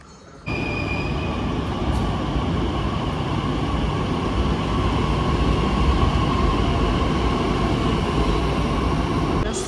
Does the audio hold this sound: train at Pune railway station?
yes